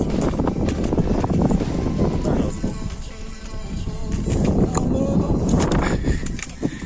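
Strong wind buffets the microphone in loud, rumbling gusts that rise and ease in the Tatra mountains, with a voice speaking intermittently underneath.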